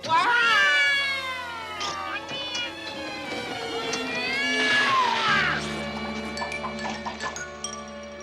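Cartoon cat Azraël from the Smurfs meows in a loud, drawn-out caterwaul near the start, followed by more yowls over busy cartoon music and effects.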